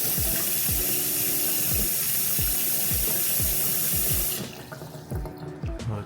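Water draining through a bathtub overflow in a 1960s bathroom: a steady rushing flow with rhythmic gurgling pulses, close and loud, which then thins to sputtering trickles near the end.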